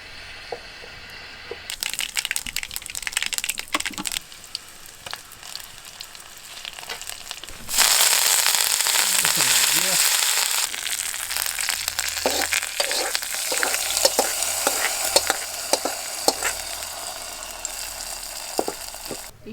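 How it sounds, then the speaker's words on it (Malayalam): Mustard seeds fry in oil for tempering a tomato, onion and mango curry, a close, crackling sizzle that jumps louder midway, with rapid popping and spluttering and some stirring clatter. "ഇനി നമുക്ക് കടുക് വറുത്ത് വയ്ക്കാം."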